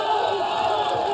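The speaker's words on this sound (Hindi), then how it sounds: "तालियों के साथ राय साहब का स्वागत कीजिए" A dense, steady crowd roar of cheering voices at a Bengal election event, loud and continuous for about a second, with no distinct claps standing out.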